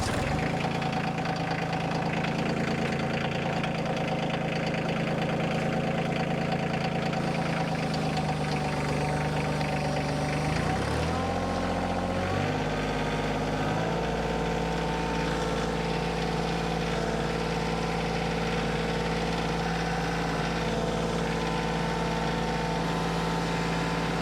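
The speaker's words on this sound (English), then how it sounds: "let's get the tractor fired up and get this log out of here." A tractor engine runs steadily on a hillside logging site, used to haul a fallen log. It drones loudly throughout and shifts in pitch midway as the load or throttle changes.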